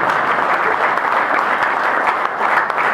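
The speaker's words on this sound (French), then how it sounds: "on peut l'applaudir très fort" A crowd at an Union Sacrée Afrique du Sud gathering in South Africa applauds loudly and continuously as a speaker comes forward, a thick, close wall of clapping with no pauses.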